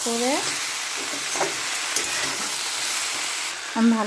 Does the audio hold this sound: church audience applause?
no